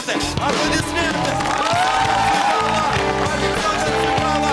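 Studio audience applause and cheering on a Russian TV comedy show, a dense, steady wash of clapping and crowd noise laid over loud music throughout.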